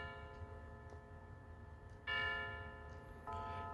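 A chime module fitted in a schoolhouse regulator clock strikes two clear, ringing bell-like notes that sustain and slowly decay, the second entering over the fading first, played with the cover on.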